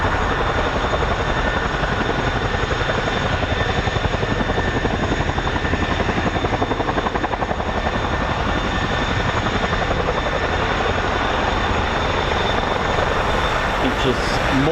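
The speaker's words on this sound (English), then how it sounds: "This is the MH-47G." A US Air Force MH-47G Chinook special operations helicopter of the 160th SOAR drones with a steady, loud rotor thrum throughout, with a voice talking over it.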